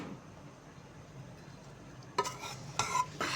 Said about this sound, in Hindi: ये देखिए अच्छे तरीके से इसको मिक्स करना है चम्मच की मदद से